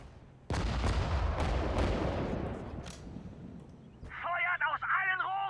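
Artillery blasts and gunfire from the strategy game Sudden Strike 4 boom in a cluster of heavy, loud reports that fade out, followed by a brief burst of radio-like chatter.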